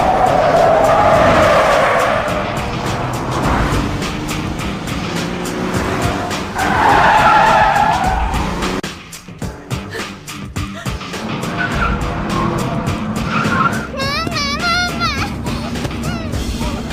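A car skids with loud, sustained tire squeals and engine roar close by, then a brief scrape before the squealing resumes; a voice speaks over the vehicle noise.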